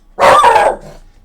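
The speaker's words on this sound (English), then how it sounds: "That's my dog." A single loud, close dog bark sounds alone, one sharp burst that quickly fades.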